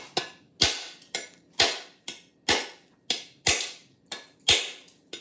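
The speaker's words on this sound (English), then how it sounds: "I'm already sweating trying to open this coconut" Sharp, hard knocks strike about twice a second as a knife chops into a tough coconut shell, each hit crisp and close with a brief ring, and no voices.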